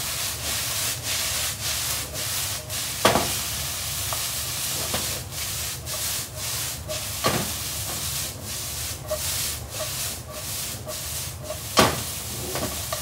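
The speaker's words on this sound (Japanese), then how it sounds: "ちょっと軽く麺をほぐしながら炒めていきます" Yakisoba noodles are stir-fried and loosened in a pan, with repeated rhythmic scraping and rubbing strokes over a steady sizzle, close up and alone, a few sharper knocks now and then.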